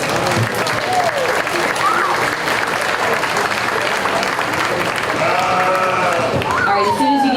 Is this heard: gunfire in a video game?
no